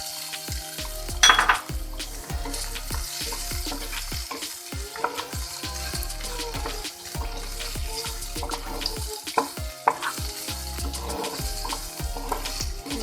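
Dried dates fry in hot oil with almonds and pistachios for sheer khurma, a steady sizzle with clinks of a spoon stirring in the pan throughout.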